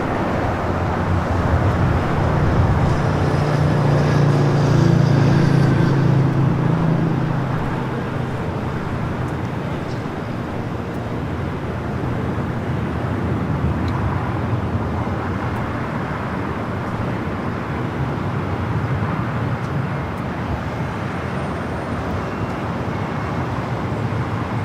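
Airliner in Swan livery from Sacramento rolling down runway 24 left at Los Angeles International Airport, a broad steady jet roar heard from a distance, louder early and then settling into a constant rumble with no talk.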